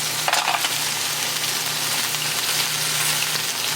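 Clams and mussels going into a pot of fish soup: a brief clatter of shells at the start, then a steady bubbling hiss from the pot, close and fairly loud.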